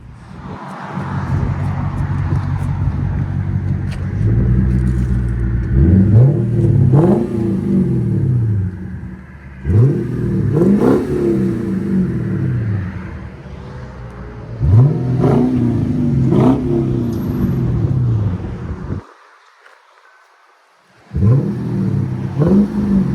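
A 2008 Lexus IS F with a 5.0L V8 and muffler delete revs hard four times, each loud, deep burst climbing then falling back to a rumbling idle, with a brief silent gap near the end.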